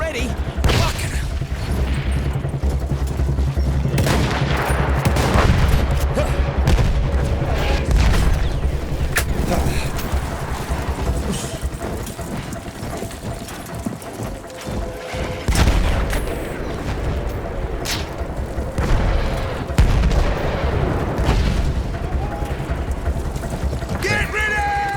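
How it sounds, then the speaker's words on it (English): Heavy artillery booms rumble through a Battlefield 1 battlefield, deep explosions and distant gunfire rolling on continuously beneath shouted voices and game dialogue. "Artillery already?"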